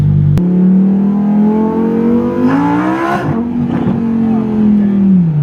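A Lamborghini engine in Corsa mode revs hard and loud at close range, its tone climbing and dipping through several blips after a sharp start, with a brief voice over it midway.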